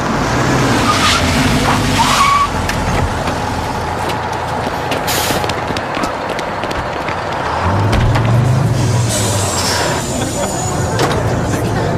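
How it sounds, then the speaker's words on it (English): A city bus pulls up, its engine rumbling and brakes hissing amid continuous traffic noise, with a low engine swell near the end. "Here's our bus."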